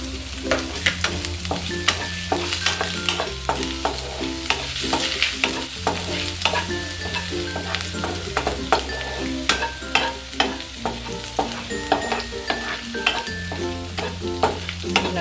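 Ginger being stir-fried in a hot pan for bread chilli, a steady sizzle broken by repeated scraping strokes of a spatula, close and loud, with music playing underneath throughout.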